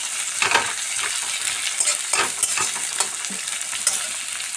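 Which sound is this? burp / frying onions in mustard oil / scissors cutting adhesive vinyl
frying onions in mustard oil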